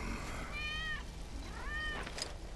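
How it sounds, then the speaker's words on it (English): Two drawn-out cat meows from a video game, Final Fantasy VII Remake, clear and fairly close, with a steady low background hum and a faint bright chime near the end. "That's Wedge's cat."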